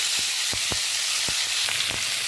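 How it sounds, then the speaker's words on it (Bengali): Chopped onions hit hot oil already seasoned with dried red chilli, whole cumin and bay leaf, giving a bright, steady sizzle broken by a few soft stirring knocks. "এখন আমি এর মধ্যে দিয়ে দিচ্ছি কুচিয়ে রাখা পেঁয়াজগুলো।"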